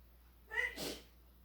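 A single close sneeze, a short sharp burst in an otherwise quiet room.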